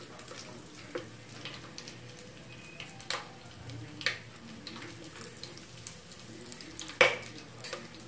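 Cloves, cinnamon, star anise and fennel seeds fry in a pan for pulav, making a faint, steady sizzle with a few sharp clicks and pops scattered throughout.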